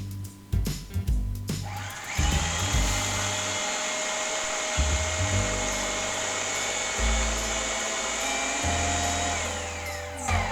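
A food processor whirs loudly as it pulses raw vegan stuffing with olive oil, starting with a few short choppy bursts and then settling into a sustained high-pitched grinding whine.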